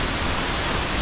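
A waterfall roars as a dense, steady broadband rush of falling water, heard up close and continuous with no voices.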